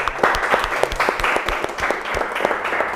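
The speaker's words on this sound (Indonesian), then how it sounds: "Kasih aplaus buat kelompok 3." Classroom audience clapping after a student group's presentation. Many hands make a dense, brisk round of applause that stays loud and close for the full stretch.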